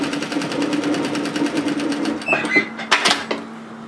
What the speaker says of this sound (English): I'm going to stitch exactly through my overlocking.